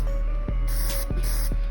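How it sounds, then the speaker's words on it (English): Paint sprayed over chrome in two short, close hissing bursts on top of a steady background hum. "when you're spraying these products"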